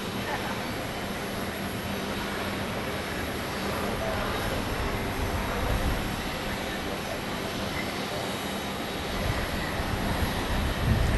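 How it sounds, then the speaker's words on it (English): A Boeing 737-800 airliner making a hard landing at Phoenix Sky Harbor, heard as a loud, steady, broad roar that swells slightly near the end, with faint voices nearby. "Another hard landing for that 737-800"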